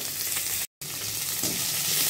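Chopped onions frying in hot oil with mustard seeds and curry leaves for a flat bean stir-fry, a steady close sizzle with a brief dropout partway through.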